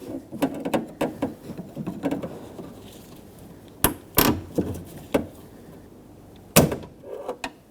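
Metal clicks and sharp snaps come from inside a 2011-2016 Ford F-350 Super Duty door as a flathead screwdriver pries apart the lock rod clip, with scattered rattles, then a few louder isolated pops and taps near the end.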